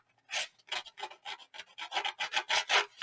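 Paper being rubbed back and forth by hand to rough it up and age it for a junk journal cover, a close series of about a dozen quick, scratchy rasping strokes in an uneven rhythm, no talking.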